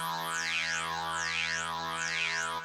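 A Forest Foreman lead preset in a Goa trance track: a buzzy, harmonically rich synthesizer tone whose filter sweeps up and down in a regular, repeating, wavy cycle, sustained and loud throughout.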